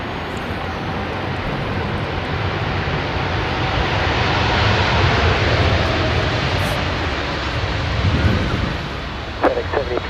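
A FedEx cargo jet at Sydney Airport roars steadily with broadband engine noise, loud and sustained throughout and swelling slightly toward the end, with faint radio chatter in the background.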